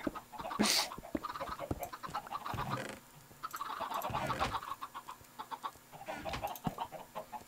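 A chicken in a video game clucks in a run of short, choppy bursts with brief pauses between them, close and fairly clear.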